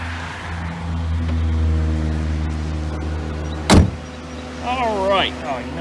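Hood of a black 2006 Pontiac G6 GT slammed shut once: a single sharp, loud thud over a steady low engine hum, followed by a few brief squeaky chirps.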